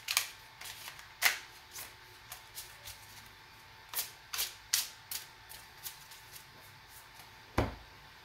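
Tarot cards shuffled by hand, a run of soft papery riffles and taps in an uneven rhythm, close and fairly quiet, with a couple of sharper snaps standing out.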